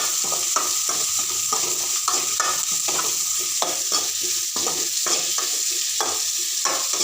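Onions sautéing in a pan for sambar, a steady loud sizzle broken by a regular run of spoon strokes scraping and stirring, no voices.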